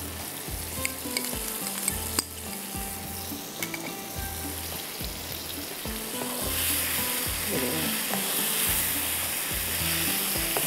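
Ginger and garlic frying in a pan for palak paneer, a steady loud sizzle with repeated stirring scrapes and clinks of a spoon, the frying growing denser toward the end, no talking.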